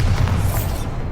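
A Bombarda explosion spell from Hogwarts Legacy detonates in one short, loud, low boom that quickly fades, with no voices over it.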